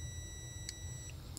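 A continuity tester on a digital clock kit gives a steady, thin electronic beep that holds through the whole short moment under a low background hum, with a couple of faint clicks.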